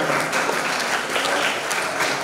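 Students at an Islamic boarding school in Balikpapan clap for their senior classmates in a brief, steady burst of crowd applause filling the hall.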